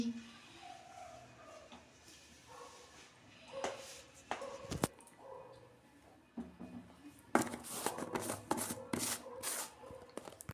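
Cauliflower rubbed against a grater for coriander-leaf gram-flour fritters, a quiet rasping scrape in bursts that turns louder and denser in the second half, with small knocks and handling noise.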